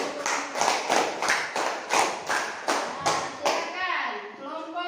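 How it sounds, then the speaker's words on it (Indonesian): A class of primary school children in Indonesia claps in a rhythmic pattern of about ten quick bursts, fairly close and lively, followed by brief chatter from the kids at the end. "Ya, bagus, pintar. Tepuk tangan."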